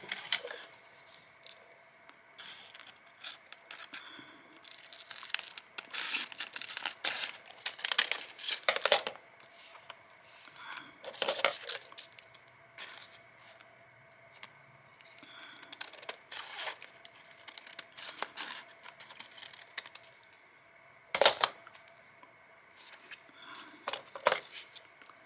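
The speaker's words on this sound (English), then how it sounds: "I'm just going to use my scissors." Paper being cut with scissors at close range, a run of crisp crinkling snips and rustles in irregular bursts, quiet and alone.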